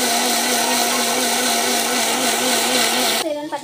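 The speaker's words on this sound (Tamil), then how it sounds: "சட்னி வந்து மிக்சியில் போட்டு அரைச்சிக்கலாம்" A mixer grinder grinding chutney whirs loudly and steadily with a strong motor hum, then cuts off near the end as the blades spin down.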